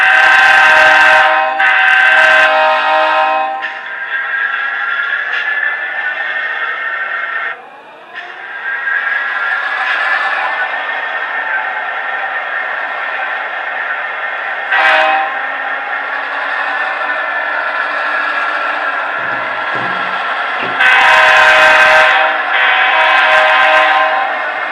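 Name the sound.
model railroad train with engines running along track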